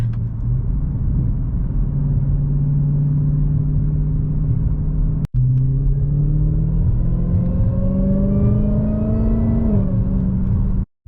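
A car with a stock exhaust rumbles steadily and then accelerates, a rising whine climbing in pitch over the engine drone before the sound cuts off abruptly, with no talk.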